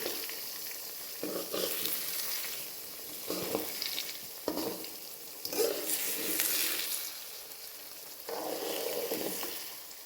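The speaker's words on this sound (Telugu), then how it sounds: "ఇప్పుడు దీన్ని మెల్లగా కలుపుకోవాలి లేదంటే అంత విరిగిపోతుంది" A garlic and egg mixture sizzles steadily in a frying pan while it is gently stirred, with soft scraping and a few brief knocks breaking through the continuous frying hiss, close and moderately loud with no talking.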